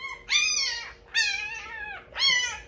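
An XL American Bully puppy gives three drawn-out, high whimpering cries close by, each rising and falling, separated by short pauses.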